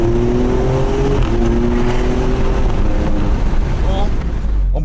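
An Alfa Romeo Stelvio Quadrifoglio SUV on a Dubai test drive, its engine revving loud and close with a raspy exhaust note that climbs and falls through the gears.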